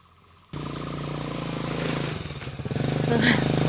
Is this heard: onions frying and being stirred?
no